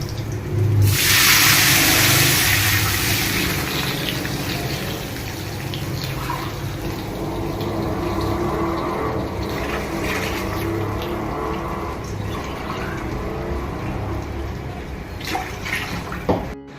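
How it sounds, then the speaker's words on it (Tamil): Six tumblers of water are poured into a cooking pot for rice upma, with a loud gushing splash at first that settles into softer sloshing and bubbling water sounds. "ஆறு டம்ளர் தண்ணி விட்டுருக்கோம்."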